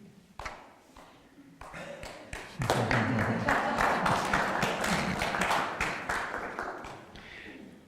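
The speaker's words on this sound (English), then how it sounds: "It's an interesting thing, applause, isn't it?" An audience applauds at the end of a talk. Scattered claps start it off, then it swells into steady, dense applause from a roomful of people that holds and slowly thins out, heard at a moderate distance with no voices over it.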